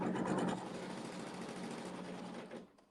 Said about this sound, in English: we are sewing another tack down stitch, and then one more seam